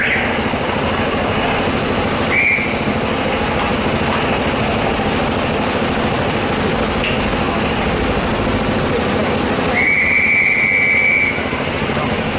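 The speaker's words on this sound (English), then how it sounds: "Some more traffic officers, sometimes blowing their whistles." Traffic officers blow whistles on a busy city street, giving two sustained shrill blasts against a loud steady wash of engine and traffic noise, one short and one longer near the end.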